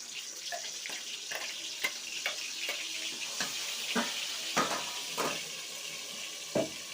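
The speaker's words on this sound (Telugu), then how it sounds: "మిక్సీ పట్టిన పేస్ట్ అయితే వేసుకుంటున్నా" Ground spice paste from the mixer fries in a pan for a Sunday fish curry, giving a steady wet sizzle broken by sharp spatters and stirring scrapes, fairly close, with no voices.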